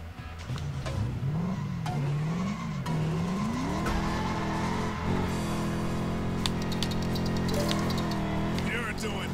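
A car in the video game Lego 2K Drive drifts with a sustained tire squeal over a steady, wavering engine whine, loud and continuous with a few clicks near the end.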